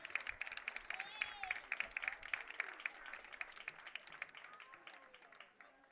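A crowd at a high school baseball game applauds the Kahok baseball seniors and their families, steady clapping from moderately distant stands with scattered voices and faint whistles mixed in.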